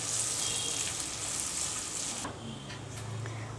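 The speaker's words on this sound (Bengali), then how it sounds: "খুব ভালোভাবে তেলের ভেতরে আমি এটা ভেজে নেব হালকা ব্রাউন কালার করে" Onion frying in oil with cloves, black pepper and cinnamon, giving a steady, close, broadband sizzle with no one talking.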